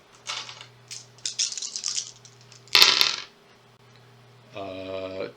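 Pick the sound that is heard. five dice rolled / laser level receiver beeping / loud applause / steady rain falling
five dice rolled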